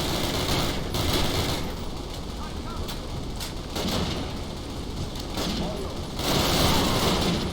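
Gunfire in the Call of Duty campaign, with bursts of rifle and machine-gun shots cracking in irregular volleys over a dense battlefield din, loud and sustained, with voices shouting in the mix.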